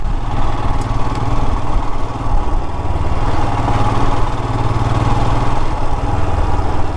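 Royal Enfield Himalayan motorcycle riding a gravel road, its single-cylinder engine thumping in a steady, loud, close rhythm with continuous rumble and road noise.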